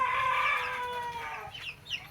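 A Chinese Silkie hen with small chicks gives a drawn-out, high clucking call up close, followed by faint chick peeps and soft rustling, with no talk.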